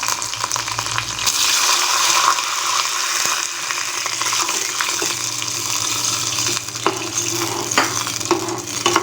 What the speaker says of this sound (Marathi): आणि आता फोडणीमध्ये आपल्याला पाणी घालायचं आहे